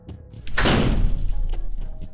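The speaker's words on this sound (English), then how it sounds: "He slammed the door behind him." A door slams shut once, a loud dull thud that rings out briefly and fades into room noise.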